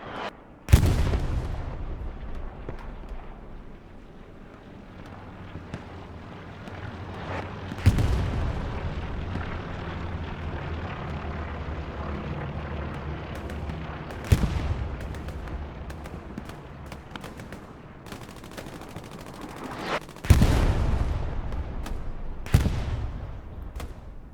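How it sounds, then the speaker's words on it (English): Artillery shelling in the video game Hell Let Loose: heavy booming blasts land one by one every few seconds, each a sharp loud crack with a rolling rumble that fades before the next impact. "Artillery shelling the shit out of the strong point."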